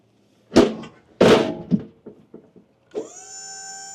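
A Maxon liftgate on a 2026 Hino L7 reefer truck clanks and thunks through a few metallic knocks, then its hydraulic motor starts with a steady whining hum, close and loud.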